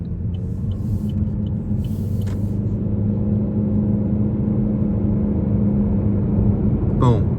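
Cabin engine drone of a 2022 Chevy Malibu LT accelerating at part throttle, a steady low rumble and whir that holds level throughout, with a few faint clicks and a short chirp near the end.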